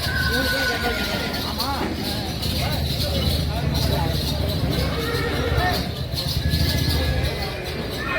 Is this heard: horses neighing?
yes